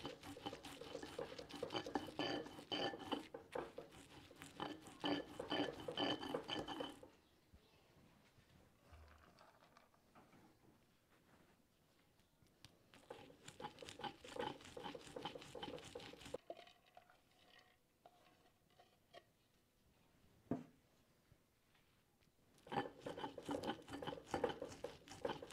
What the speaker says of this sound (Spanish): Así estoy terminando de moler los granitos de elote.